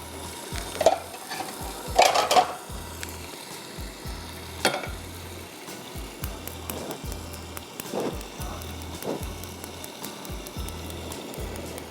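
Oil sizzles in a pan for a tadka tempering with green chillies, a crackling hiss broken by repeated scraping stirs and a couple of sharper metallic clinks, fairly close and with no talk.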